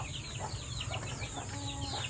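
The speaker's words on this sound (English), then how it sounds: "Baby chickens running around." Baby chickens cluck and peep close by in a rural Philippine province yard, a cluster of soft, rapid chirping calls over a steady background, with no talk.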